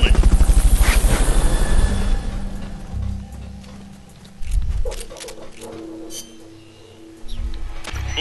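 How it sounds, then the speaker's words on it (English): Helicopter rotor chopping from Metal Gear Solid Peace Walker, a loud steady thumping that fades back under game sounds, with bursts of other effects later in the gameplay. "Fulton recovery subject confirmed onboard helicopter"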